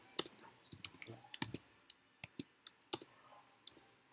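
Someone types on a computer keyboard in quick, irregular clicks, close and quiet, in short bursts with brief pauses and no voices.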